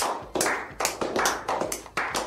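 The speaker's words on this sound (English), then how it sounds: "I've got the claps." Clapping played from a soundboard: a short burst of several sharp hand claps in an uneven run, close and fairly loud, with no one talking over it.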